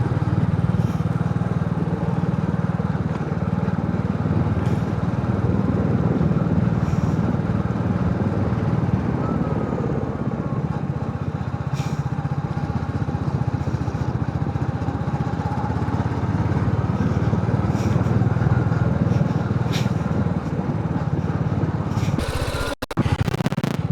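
A motorbike rides out through a narrow lane on a road trip from Burdwan toward Barrackpore, its engine a steady, close, continuous drone with wind rumble throughout, ending in a brief clatter.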